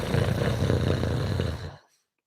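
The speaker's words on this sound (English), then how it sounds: "as you inhale through your nose, you make a snoring sound" A loud nasal snoring sound made while inhaling through the nose as a breathing exercise, one continuous rough rasp lasting under two seconds, close and alone, then silence.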